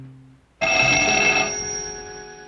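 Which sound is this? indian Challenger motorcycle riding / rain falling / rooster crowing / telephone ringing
telephone ringing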